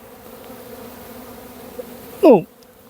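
A honey bee buzzes in flight near a hive during protein feeding. One loud, close buzz passes briefly over a faint background hum.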